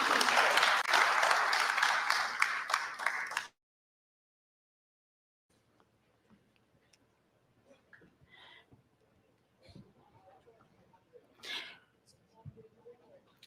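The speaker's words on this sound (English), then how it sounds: "Let's give him a round of applause, please." A live citizen assembly audience at a youth rights engagement event bursts into loud applause for about three seconds, which stops abruptly. Silence follows, then faint, scattered talking.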